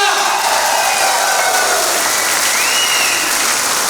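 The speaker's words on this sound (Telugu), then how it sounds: "ఈరోజు మనమందరం ఇక్కడ కూర్చోవడానికి మెయిన్ కారణమైనటువంటి మన గ్రేట్ అప్లై విజయరాజ్ సార్కి మనం అందరం ఒకసారి బిగ్ రౌండ్ ఆఫ్ అప్లాజ్ ఇద్దాం గట్టిగా" A large audience at a digital marketing boot camp breaks into sustained, loud applause, an even wall of clapping with some cheering mixed in that holds for the whole stretch.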